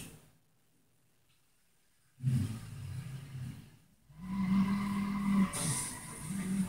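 A car in a street revs and skids past at close range, tires squealing in two loud bursts separated by a brief lull after a quiet start.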